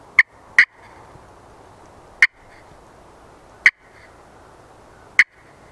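Sharp, raspy clucks come from a turkey pot call worked with a striker, five short, close, loud notes spaced unevenly over a quiet background, with no voices.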